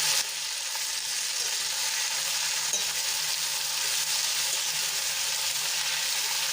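Radish greens sizzle and fry in hot oil while being stirred in a pan, a constant loud crackling hiss with faint scraping, with no voices.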